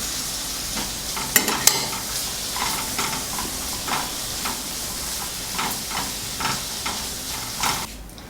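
Tomato wedges and green peas sizzle and fry in a pan while being stirred, a steady hiss broken by scraping stir strokes, for a pork chop dish.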